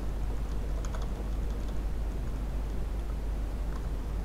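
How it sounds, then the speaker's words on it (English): Arrow keys on a computer keyboard are pressed in a few faint, scattered clicks over a steady low electrical hum, with no talking. "using arrow keys on my keyboard I'm gonna center it"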